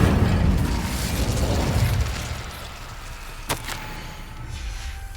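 Incendio fire spell in Hogwarts Legacy, a rumbling whooshing burst of flame that swells loudly at the start and fades over a couple of seconds, followed by a sharp brief crack.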